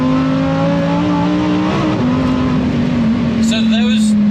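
Lamborghini Huracan STO driving over a rough back road, its engine droning steadily close up while the suspension skips over bumps, with a brief higher rattle near the end and no talk.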